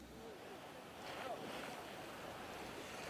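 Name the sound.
Hurricane Sandy storm surge waves in New York Harbor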